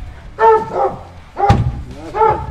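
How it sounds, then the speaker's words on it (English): A dog barking in a few separate bursts, near and fairly loud, with a thud between them and a person speaking nearby. "Are you done barking?"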